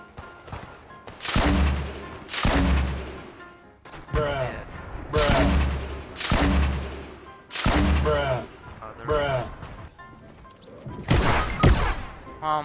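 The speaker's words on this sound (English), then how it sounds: "Oh, I got a grenade launcher here." A grenade launcher fires repeatedly in the Fortnite video game, sending loud booming blasts at irregular intervals, each followed by a rumbling tail, with a voice talking between shots.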